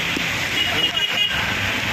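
Heavy rain pours steadily in a broad, dense hiss on a village road, close and fairly loud, with no clear talking over it.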